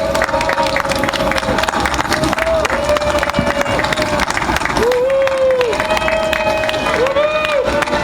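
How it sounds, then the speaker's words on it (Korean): A crowd at an outdoor Independence Gate anniversary ceremony claps continuously, dense and steady, while voices ring out over the applause. "퇴장 중간까지 끝까지 박수 좀 쳐주십시오."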